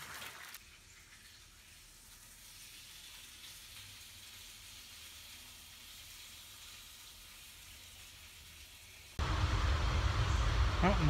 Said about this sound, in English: Got some eggs frying up now